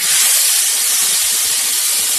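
Steaks searing in a hot pan with lightly smoking butter, a loud close steady hiss of sizzling fat, continuous and unbroken with no talking.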